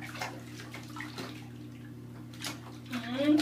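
Water sloshes and splashes in a bathtub as a child bathes, with soft intermittent splashes and drips under a steady low hum, growing louder toward the end while voices talk nearby.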